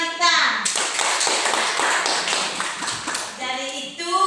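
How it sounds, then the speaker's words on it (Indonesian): A primary school class claps together for a classmate in a quick, dense round of applause, with children's voices talking just before and after. "Tepuk tangan untuk Yuanita."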